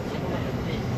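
A Kyoto metro train rumbles steadily, a dense, loud roar of wheels and motion with no break.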